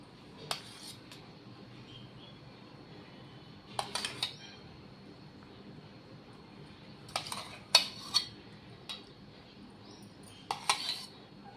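A spoon clinks against a bowl while curd is added to milk for homemade yogurt, several sharp, close metallic taps in small clusters separated by quiet pauses, with no talking.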